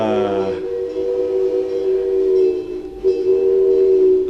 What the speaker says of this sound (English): here we got a train coming by.